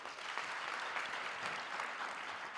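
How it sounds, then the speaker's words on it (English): A big round of applause from the audience at a university graduation ceremony, a brief, even wash of many hands clapping at a moderate distance with no talk over it. "let's give them a big round of applause"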